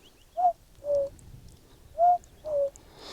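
A person whistles or hoots through the lips in imitation of a cuckoo call, giving four short, clear two-part notes in pairs, close and quiet against a faint background.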